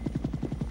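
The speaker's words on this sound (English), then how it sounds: "Attack choppers." Attack helicopters in flight, their rotors beating out a loud, steady, rapid chop that stays close and continuous throughout.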